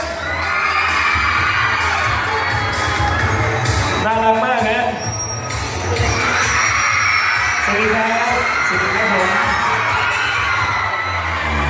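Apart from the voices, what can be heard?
crowd cheering and shouting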